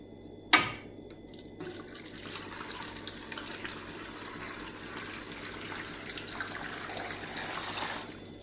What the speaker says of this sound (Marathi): बटाटे असे कुकरला लावून घ्यायचे आहेत। त्यामध्ये पाणी टाकायचं आपण।